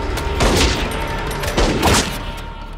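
Gunfire during the opening shootout scene of the movie Bad Boys II, a dense and loud barrage of overlapping shots and booms that swells twice over a steady roar of action noise.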